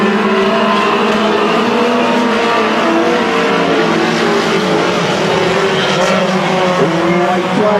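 Race cars lapping a 250 speedway, the front five running nose to tail, a loud continuous roar of several engines with shifting pitch and faint tire squeal, held steady from start to end.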